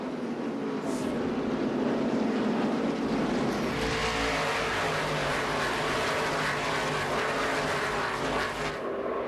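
NASCAR Busch Series race cars accelerate along the front straightaway at the 2006 Silver Celebration 250, a loud continuous engine roar that builds and shifts in pitch as the pack passes.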